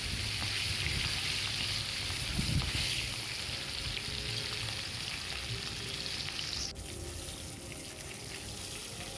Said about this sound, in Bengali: তারপরে আমি কড়াইতে তেল দিয়ে দিয়েছি। এবার আমি মাছগুলো ভেজে নেব।